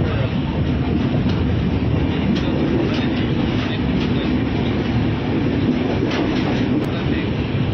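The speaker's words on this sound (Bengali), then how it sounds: "এখানে আমাদের উত্তরবঙ্গ ট্রেন ঢোকালো 6:20-তে" The 13147 Uttar Banga Express rolls into New Jalpaiguri (NJP) station, a loud continuous rumble of wheels and carriages with faint rhythmic clatter, heard close without talk.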